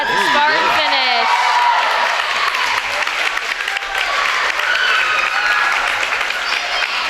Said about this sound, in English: Fans, the other swimmers, they were very cheerful, cheering on for our teams.